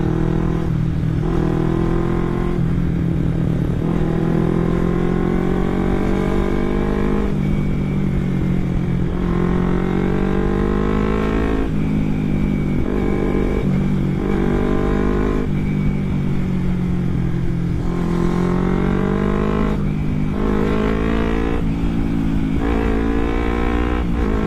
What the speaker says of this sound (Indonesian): Kalau ngebutnya pun juga nggak terlalu cempreng, knalpotnya enak.